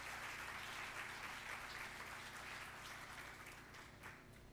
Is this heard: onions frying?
no